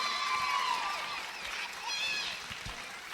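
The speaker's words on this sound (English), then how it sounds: "how about another round of applause for the girls in fitness and swimwear?" Crowd at the Miss Lehi 2009 pageant applauding and cheering the contestants after the fitness and swimwear round, a steady wash of clapping with voices and whoops over it.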